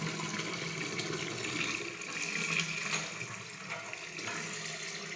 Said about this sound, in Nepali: त्यसपछि पानी भरिन्छ।